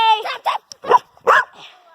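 A dog in a rough backyard play-fight lets out several loud, close barks and higher yips in quick succession, the bursts separated by brief gaps.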